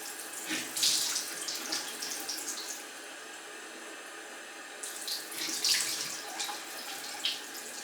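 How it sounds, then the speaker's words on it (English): A bathroom sink tap runs steadily while a face is washed, with close splashing and rinsing bursts over the flow at the start and the end. "after washing my face"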